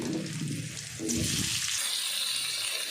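Small potato pieces drop into a frying soybean curry, a close bubbling sizzle that swells briefly as they go in, then a steady quieter hiss.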